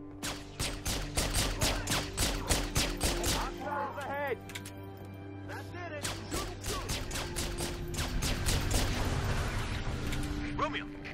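A turret fires in the game Halo 3 ODST, with rapid, loud, continuous bursts of automatic gunfire and heavy booms that barely pause. Voices and combat chatter are mixed in with the shooting.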